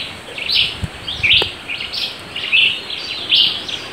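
Songs of a mockingbird and a pájaro de atole recorded in Santa María Zapotitlán, Oaxaca: bright, clear chirping phrases repeat every half second or so, close and prominent over quiet outdoor background.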